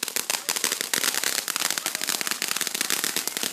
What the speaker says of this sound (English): light them fireworks up